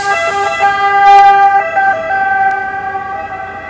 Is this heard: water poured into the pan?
no